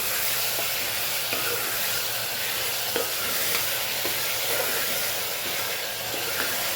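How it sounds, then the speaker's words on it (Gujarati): Vegetables tossed into masala in a frying pan are stirred steadily, with a loud continuous sizzle and hiss broken by soft scraping clicks of the spoon, and no voices. "મિક્સ કરી લઈએ."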